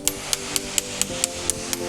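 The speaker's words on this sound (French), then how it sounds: "quand tu tapes avec le burin, tu regardes là, tu regardes pas le marteau" Steady hammer blows on a chisel cutting into masonry during renovation, eight sharp metallic strikes in an even rhythm, close and clear with nothing else over them.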